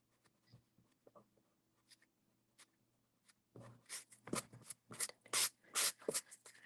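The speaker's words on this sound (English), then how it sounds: "we can go ahead and erase all of our lines" A pencil drawing is erased with close, brisk rubbing strokes on paper: a few faint scrapes at first, then a dense run of quick back-and-forth bursts.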